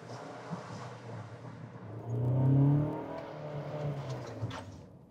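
A car is driven for brake bedding, its engine rising into a firm acceleration that swells to a peak and then eases off as it slows, heard from inside with no talking.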